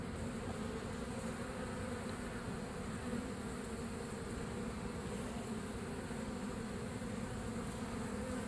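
Honeybees swarm around a hive during an abscond retrieval, a steady, dense buzzing hum that continues evenly throughout and sounds close, with no voices over it.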